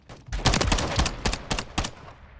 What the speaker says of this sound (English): Horrible little gun that is.